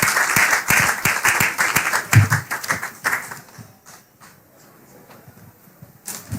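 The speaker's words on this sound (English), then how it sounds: "Give him a round of applause." A crowd applauds warmly at a tribute gathering to welcome a Member of Parliament, the clapping dense for about three seconds and then thinning into scattered claps that fade out, with no talk over it.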